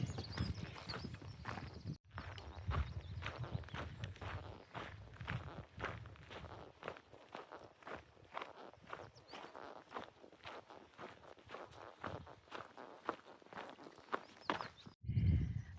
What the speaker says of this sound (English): I did that last clip because I wanted you to hear my backpack